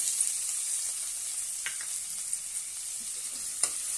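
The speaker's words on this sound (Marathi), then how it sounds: "आता त्यामध्ये एक कांदा बारीक कट केलेला आहे तो घालूया" Finely chopped onion sautés in a pan with a soft, steady sizzle, broken by a few light scrapes and taps of a spoon stirring.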